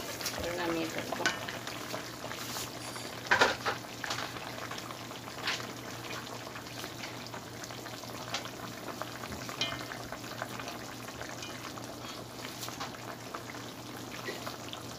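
Koi fish with bottle gourd and green chilies simmering in a pot, giving a steady, dense bubbling hiss throughout with a brief louder clatter early on and a faint voice in the background.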